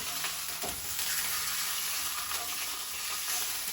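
Peach ribs browning in oil against a hot metal skillet give off a steady, close sizzle and crackle that runs unbroken throughout, with no talking.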